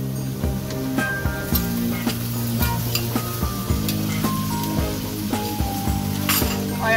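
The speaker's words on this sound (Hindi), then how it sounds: "और आप दोबारा से अच्छे से फ्राई करेंगे ताकि लहसुन अदरक की स्मेल खत्म हो जाए" Garlic ginger paste fries in a hot pan for a restaurant-style egg and chickpea curry, a steady close sizzle with repeated clinks and scrapes of a stirring spoon against the pan.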